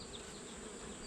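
Steady, faint insect buzzing hums throughout, a continuous low drone of honeybees from a captured swarm, with no voices.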